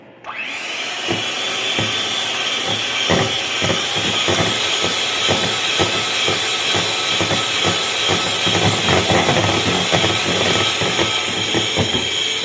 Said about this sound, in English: Now we're going to dump that in there, blend it a second or two, and we're going to mix it all.